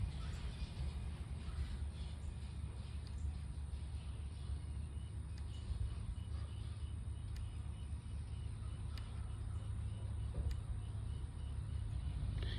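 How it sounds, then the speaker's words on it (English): Low, steady rumble of cars passing on a nearby road, continuous traffic noise with no talking. "there's too many cars coming by right now"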